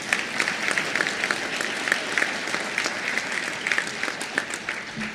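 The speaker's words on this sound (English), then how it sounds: "Yeah, you can clap for that. You should." Moderately loud audience applause at a dedication ceremony, with many distinct hand claps in a steady, crackling wash that carries on for about five seconds without speech.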